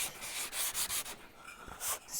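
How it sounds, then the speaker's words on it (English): Wooden toy part for a tractor being sanded by hand, a series of short rasping rubs in uneven strokes, close and fairly loud with brief pauses between passes. "And now I'm sanding"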